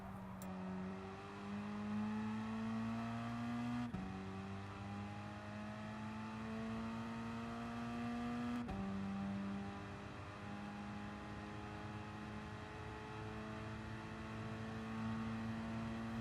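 An Alfa Romeo 4C Gr.4 race car in Gran Turismo Sport at Suzuka accelerates hard, its engine note climbing steadily through three upshifts, each gear change marked by a sharp drop in pitch.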